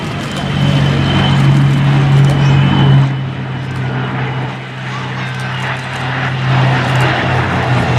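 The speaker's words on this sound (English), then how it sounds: "The Blenheim was, the Bristol Blenheim was light bomber, twin engine, and he's leading the formation" A Bristol Blenheim twin-engine light bomber flies past in formation with other aircraft at an air show, its propeller engines droning loudly in a steady hum that dips briefly midway, with a voice commentating over it.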